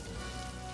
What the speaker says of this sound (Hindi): उसने मुझसे कहा है कि मैं थोड़ी देर बारिश में भीग सकती हूँ।